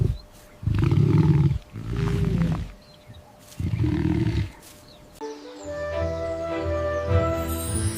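A lion roars several times: deep, loud, close bursts separated by short pauses, followed by lower rumbling growls.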